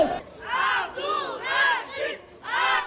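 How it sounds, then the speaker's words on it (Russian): Fans in an arena at the 2024 Yarygin freestyle wrestling tournament in Krasnoyarsk greet a star wrestler's entrance with loud rhythmic crowd chanting, four swelling shouted bursts in a steady beat, with brief dips between them. "Вот так болельщики встречали каждый выход главной звезды этого турнира."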